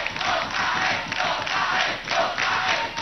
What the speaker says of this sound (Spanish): ¡Aplausos fuertes para esta pareja!